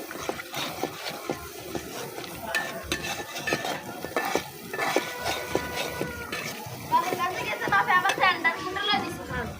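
Chilli spice masala fries in a pan while a spatula stirs and clinks against the metal in quick irregular strokes over a soft sizzle, with people talking nearby.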